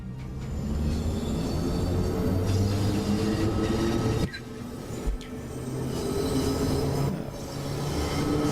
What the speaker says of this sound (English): Come on, little train, let's go.